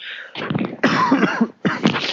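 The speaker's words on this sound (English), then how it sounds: "I've been coughing up a storm" Several harsh, raspy coughs in quick succession, loud and close, with short breaks between bursts.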